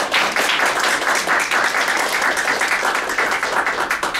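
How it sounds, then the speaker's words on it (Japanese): Loud, close applause from an audience at a community gathering, a thick continuous rattle of clapping hands that stays strong with slight pulsing throughout. "いや本当に強く拍手です"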